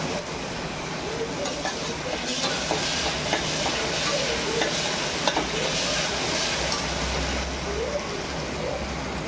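Chopped tomatoes cook in a pan for spicy masala khichdi, giving a close, steady sizzle with scraping stirs and light clicks of a spoon against the pan throughout.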